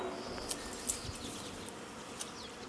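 A honey bee swarm settling at a top bar hive gives a faint, steady buzz, with a few brief insects passing closer by.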